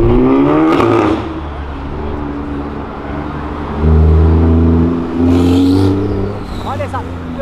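A Ferrari 488 turbo engine revs hard while drifting on a street, with loud rising and falling surges and turbo whooshes, someone talking excitedly over the roar.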